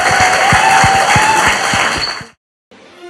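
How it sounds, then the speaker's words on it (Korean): A studio audience claps steadily and loudly for about two seconds, then the applause cuts off abruptly into silence. "박수 부탁드립니다."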